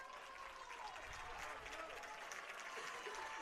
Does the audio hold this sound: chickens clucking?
no